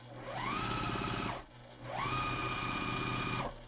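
A sewing machine stitches quilt block pieces together in two steady, loud runs, with a rising motor whine at each start and stop and a short pause between them.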